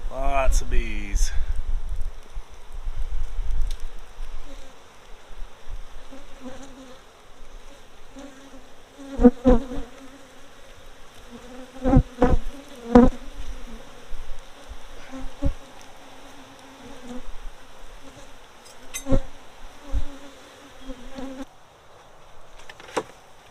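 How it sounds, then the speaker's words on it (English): Crowded honey bee colony humming around an opened hive, a sustained layered buzz with repeated sharp clicks and knocks from frames being handled, and a rustle at the start. "Lots of bees."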